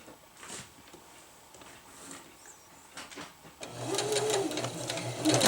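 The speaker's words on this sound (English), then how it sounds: "I'm just going to sew with the width of my foot" A sewing machine stitches a zippered hammock bug net with quiet, soft mechanical whirring that swells into a louder, steadier run near the end, heard close up.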